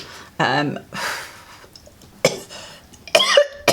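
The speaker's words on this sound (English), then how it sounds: "that's the first time it's made me cough" A few sharp coughs burst out between bits of talk, near and fairly loud, with a voice speaking around them.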